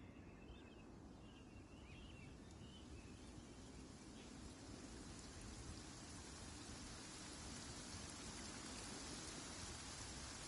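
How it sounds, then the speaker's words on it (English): Steady rain in the video game Genshin Impact hisses as a dense, even wash of patter throughout, with faint chirps flickering at the top early on and no talking. "Don't stay out in the rain for too long."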